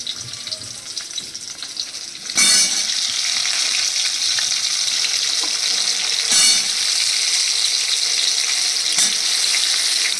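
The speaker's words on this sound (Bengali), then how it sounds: "আর এই পেঁয়াজগুলোকে এবার দিয়ে দিচ্ছি।" Thick-cut onions hit a hot pan for a homemade chicken stew, giving a steady close sizzle with brief louder bursts of stirring and spitting oil, with no talking.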